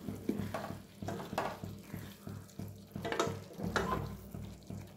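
A spoon stirring egg masala gravy in a frying pan, soft repeated scraping strokes over a faint steady sizzle, fairly quiet and close.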